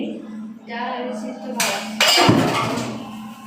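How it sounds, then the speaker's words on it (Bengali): Dishes being washed by hand in a home, with pots, plates and cutlery clinking and scraping in bursts, loudest near the end, while people talk alongside. "এখন দিশা বাসন মাজছে"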